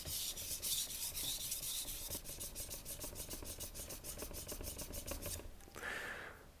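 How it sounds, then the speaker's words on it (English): A kitchen knife's edge is drawn repeatedly across a higher-grit wet whetstone, giving steady rhythmic rasping strokes, close and fairly loud, with no talking. "I'm finding my sharpening angles, setting my knife edge across the stone"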